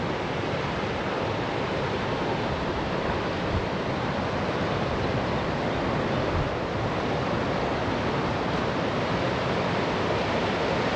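A waterfall pours behind a bridge in Brantôme, Dordogne, a dense, steady roar of rushing water that fills the whole stretch without pause and with no voices.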